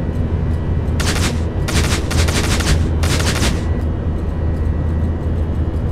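Naval guns in a 1971 Indian naval front video game fire in three loud blasts with roaring tails at about one-second intervals, over a constant low engine or sea rumble.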